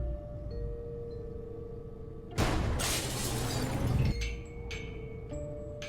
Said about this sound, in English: I got rid of the glass above the door to the lab.